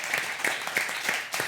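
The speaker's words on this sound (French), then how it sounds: "Et on l'applaudit" A studio audience at a TV show claps for an arriving guest, a brief burst of dense, even applause lasting under two seconds.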